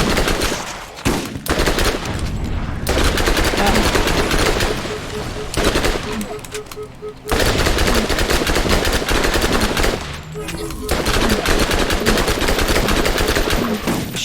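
Sustained automatic gunfire in the video game Borderlands aimed at a fire-spitting spider, dense rapid bursts broken by short pauses, loud and close with game effects underneath.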